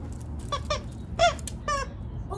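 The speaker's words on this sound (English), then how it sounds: "Oh, it makes the squeaky sounds." A squeaky dog toy gives several short, high-pitched squeaks at irregular intervals, close by over a low background rumble.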